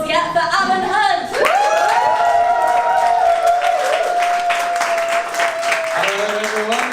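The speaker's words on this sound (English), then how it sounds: "So biggest round of applause yet for Alan Hunt." A comedy club audience applauds a stand-up comedian, loud sustained clapping with cheers throughout, while a voice carries over the top.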